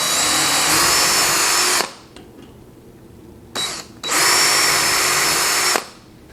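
A power drill pre-drills holes for 1/4 inch fasteners while a JUKI DDL-8700 sewing machine table is assembled, whirring loudly in two long bursts separated by a pause with a brief blip in between.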